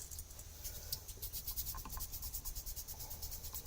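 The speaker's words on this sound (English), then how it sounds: "we'll sand this off a little bit" Fine 600-grit sandpaper rubbed in quick short strokes to remove burrs from a scratch-built model body, a soft rhythmic raspy scratching, close and quiet.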